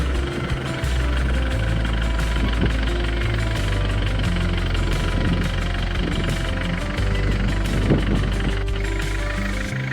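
A car engine runs steadily during a police driver recruitment driving demo test, a constant close rumble with slight revving swells and no voices over it.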